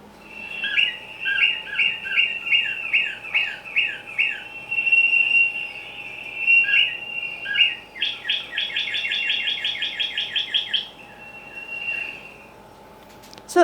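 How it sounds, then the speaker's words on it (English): A cardinal sings from a backyard, repeating series of clear, loud whistled notes in rhythmic phrases, then a faster run of rapid chips before falling quiet. "So let's see if we can get the cardinal to sound."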